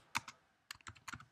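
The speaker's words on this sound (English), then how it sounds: "So you would just type a subject in" Computer keyboard keys tapped in short bursts: a couple of quick strokes, a pause, then a run of several close keystrokes, near and fairly quiet with no voice.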